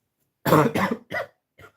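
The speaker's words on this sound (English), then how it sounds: "this cake is a bit dry, so you're gonna cough" Several quick coughs, one loud burst followed by shorter, weaker ones and a faint final hack, close to the listener.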